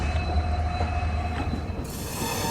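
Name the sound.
Humsafar Express train starting to move, wheels squealing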